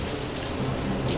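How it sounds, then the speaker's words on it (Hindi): Steady, dense rain pours in an animated rural story scene, a loud continuous hiss with low rumbling underneath suggesting thunder, and no voices. "तभी आसमान में बादल छाने लगता है और बारिश शुरू हो जाती है।"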